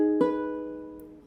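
A single sustained piano-like chord in a minor voicing, struck once and left ringing as it slowly fades, heard alone with no talking.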